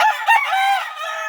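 An Asil rooster crows once, loud and close, a drawn-out harmonic call that rises and then trails off over about a second.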